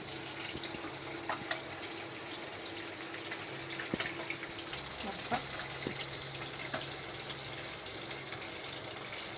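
Rice cooking water is poured off through a basket, a steady broad rush of draining water with a few small clatters throughout.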